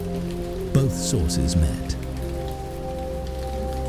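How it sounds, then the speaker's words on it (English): Heavy rain falls steadily as a sound effect, a constant hiss that sits under a narrating voice, with a few brief splashy bursts near the start. "heavy rain fell continuously from the sky"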